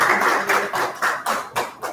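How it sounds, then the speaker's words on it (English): Audience clapping after a talk on gravitational waves, a dense, fairly loud wash of applause that swells and dips in uneven waves, with no talking. "You can see the claps behind me"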